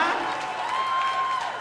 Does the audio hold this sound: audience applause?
yes